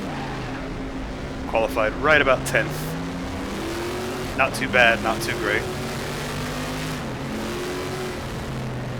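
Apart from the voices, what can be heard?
Greenwood Chevrolet Group 5 race car engine, RaceRoom video game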